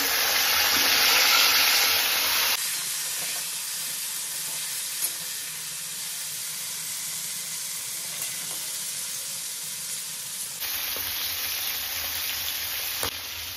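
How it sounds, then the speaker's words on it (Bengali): Pieces of pre-fried mutton go back into hot oil for a mutton curry, giving a steady broadband sizzle and hiss that is louder at the start, eases in the middle, then rises again near the end. "এখানে তেল গরম হয়ে গেছে, আমি যে মাটনগুলো ভেজে রেখেছিলাম সেগুলো আরেকবার দিয়ে দিলাম"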